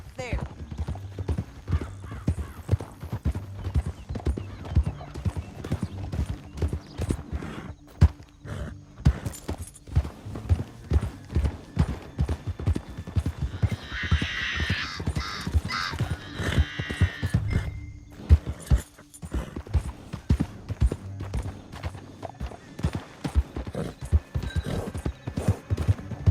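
Horses galloping in the Red Dead Redemption 2 video game, rapid rhythmic hoofbeats clip-clopping throughout, with a neigh or whinny midway, while characters talk over the riding.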